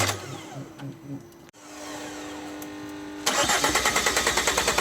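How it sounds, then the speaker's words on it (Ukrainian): Starter motor cranking an Opel Vectra C with the Z19DTH diesel engine, a steady whirring crank that changes pitch midway, then the engine catches into a loud, rough, pulsing diesel clatter. "Ну крутний стартером."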